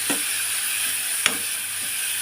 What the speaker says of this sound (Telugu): ఎండ్రేలు వేసుకుందాం. ఆయిల్ కాగింది, కొంచెం వేగాలి.